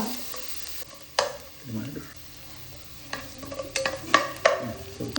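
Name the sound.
chopped ginger and garlic frying in hot oil with mustard seeds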